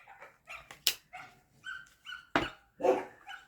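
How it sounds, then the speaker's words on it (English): Dogs barking repeatedly in a quick irregular series of sharp, fairly close barks and yips, with no voices over them. "Dogs must bark, Sag."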